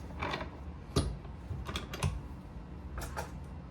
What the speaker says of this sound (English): I'm gonna run these things through the trimmer